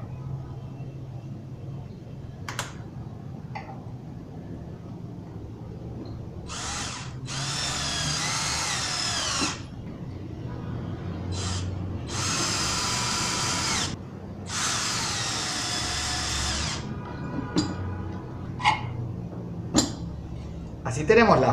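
A power drill drives screws into pocket-hole joints in wood, three loud whirring bursts of a few seconds each with quiet clamp and workshop handling noises between them.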